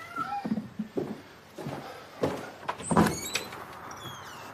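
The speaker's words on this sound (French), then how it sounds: "Entrez et laissez pas sortir mon chat." A cat meows several times indoors, short close cries mixed with door and cupboard knocks and rustling, without speech.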